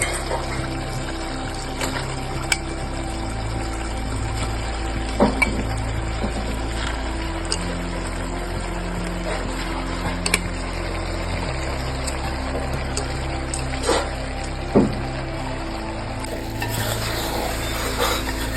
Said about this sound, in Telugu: మనం ఈ రైస్ అంతా ఇలా చిన్నగా కలుపుకోవాలి.